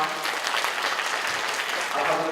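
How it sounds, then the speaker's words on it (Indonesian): Dense applause from a student audience at the opening of a school arts show featuring Ratoh Jaroe and creative dance, steady and loud throughout, with scattered voices and cheers mixed into the clapping. "Oke, berikan tepuk tangan untuk semua."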